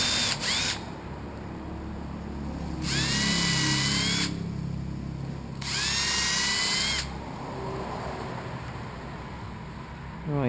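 A power drill whirs in two separate bursts of a few seconds each, spinning up and down close by, with quieter workshop hum between them.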